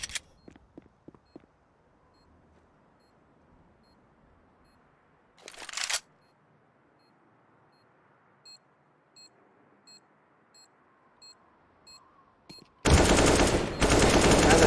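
Automatic gunfire bursts ring out during a Counter-Strike match on the Nuke map, with a short burst near the start, another around the middle and a loud sustained volley at the end, separated by faint beeps and quiet game ambience.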